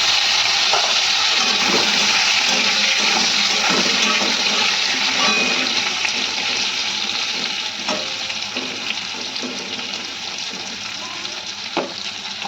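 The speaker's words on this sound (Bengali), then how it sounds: "আলুটাকে আমি লাল লাল করে ভেজে নেব।" Boiled potatoes fry in hot mustard oil with bay leaf and five-spice seeds in a pan, giving a loud, steady sizzle that runs throughout with occasional stirring clatter and no talking.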